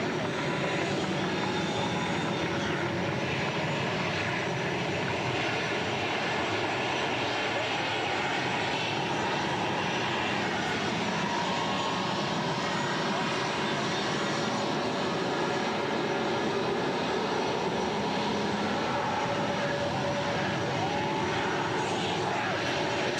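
A-10 jet aircraft taxi at England Air Force Base during a Gulf War homecoming, with a loud, continuous engine roar filling the air nearby for the whole stretch.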